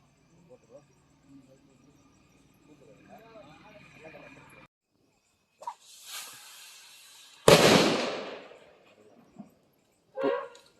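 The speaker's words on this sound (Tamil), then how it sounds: "அது பாருங்க பட்டாசு வெடிச்ச இடத்துல ஓடி வருது" At night in a residential area, after quiet murmuring, a sharp firecracker blast set off to drive away elephants bursts out loudly and crackles as it fades, followed by another shorter pop and scattered voices.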